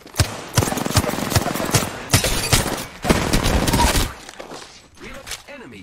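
Rapid bursts of gunfire in a battle royale video game, several loud volleys of shots with short gaps between them, then quieter scattered sounds near the end.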